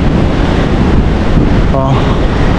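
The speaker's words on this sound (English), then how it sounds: "Too much wind." Strong wind blasts across a city street at night in Cape Town, a loud continuous roar buffeting the microphone, with a brief voice faintly audible under it.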